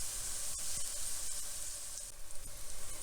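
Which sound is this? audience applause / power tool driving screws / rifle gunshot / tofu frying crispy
tofu frying crispy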